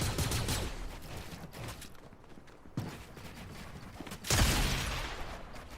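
Shotgun blasts ring out in a first-person shooter game, a few loud bursts spaced several seconds apart over steady background game noise.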